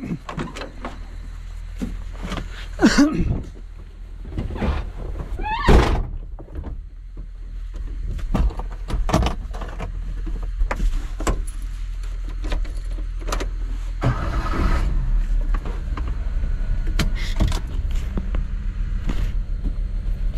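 Beside rice fields and farm plots, a car door shuts with a couple of solid thumps and clunks, followed by the steady hum of the car's engine running nearby.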